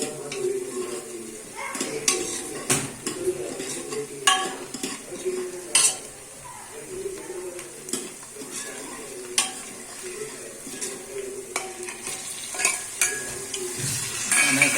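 Onion, cumin and spice masala frying in oil for pav bhaji: a continuous close sizzle under repeated clanks and scrapes of a spoon stirring in a metal pan, with no one speaking.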